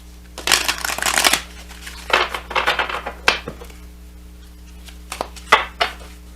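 A deck of oracle cards is shuffled by hand in close, crisp riffling bursts, a long rush first, then several shorter flurries and single snaps over a low steady hum.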